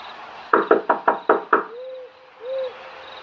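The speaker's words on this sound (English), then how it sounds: "I knocked 1 more time out of desperation," Six firm knocks on a wooden door in quick succession, followed by two soft hooting owl calls in a quiet setting.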